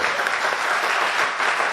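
A congregation at a church worship service applauds loudly and continuously, a dense sustained wash of many hands clapping that fills the hall with no pauses.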